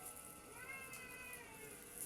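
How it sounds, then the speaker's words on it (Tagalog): A cat meows once, a drawn-out mewing call in the middle of a quiet indoor scene with steady low background noise and no talking. "Ang pusa ko."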